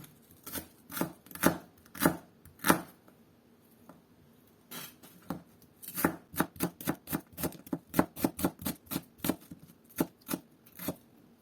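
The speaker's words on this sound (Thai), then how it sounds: "หอมใหญ่แทนนะคะ เราก็จะ สไลด์เป็น ชิ้นบางๆนะคะ" A knife thinly slices an onion against a cutting board in quick, even strokes, with a short pause before a faster run of cuts.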